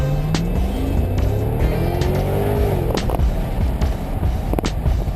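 A Corvette or Camaro on a driving course accelerates hard at full throttle, a rising engine drone sweeping steadily upward with faint tire noise and a few sharp transients, loud and close throughout.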